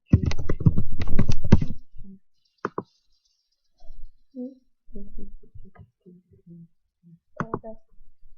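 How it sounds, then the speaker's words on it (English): Fast clattering bursts of typing on a computer keyboard, close and loud at first, followed by scattered lighter clicks and keystrokes with a short voice breaking in near the end. "Just type in there."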